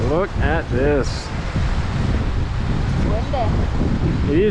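Strong wind at Emerald Lake in Rocky Mountain National Park buffets the microphone with a loud, constant rushing roar, while voices speak briefly over it.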